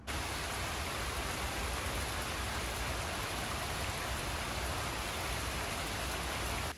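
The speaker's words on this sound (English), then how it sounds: "not sure if you can hear it, but it is raining hard." Heavy rain drums steadily on a garage roof, a dense, unbroken hiss that holds at the same level from start to finish, heard from inside the building with no voices.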